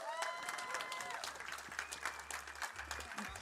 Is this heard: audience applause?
yes